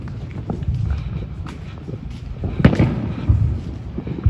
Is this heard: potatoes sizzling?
no